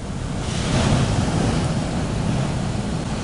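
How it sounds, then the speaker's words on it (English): Huge storm waves crash and surge continuously at Lantic Bay, a loud, close, roaring wash of surf with heavy wind buffeting the microphone, with no talking. "freak wave, where sort of a bunch of waves all combine together to make one huge one"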